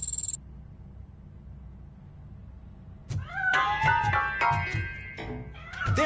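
A cat meows a few times, drawn-out and fairly close, after a brief electronic tone and a quiet stretch.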